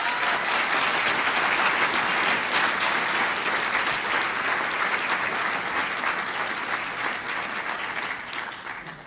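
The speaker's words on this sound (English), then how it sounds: "I want you as students to give them a great big applause." Audience at a medical school white coat ceremony applauding, a dense, sustained wash of clapping from a large crowd that holds steady and then gradually tapers toward the end.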